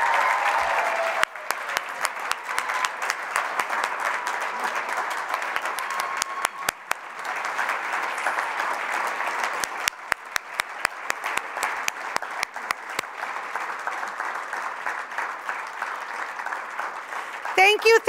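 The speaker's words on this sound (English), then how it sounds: "I think we need a final applause for all these educators on stage tonight." An audience applauds educators on stage at an annual benefit dinner, steady dense clapping filling the room for most of the stretch, with a brief lull and some sharper individual claps near the end.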